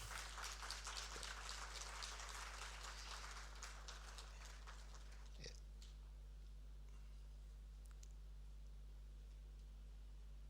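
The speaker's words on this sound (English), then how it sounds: "A round of applause, please." Applause at a formal ceremony for a new prison service director general, a dense patter of clapping that is fairly faint and fades away over the first half, leaving a steady low hum with a few scattered sounds.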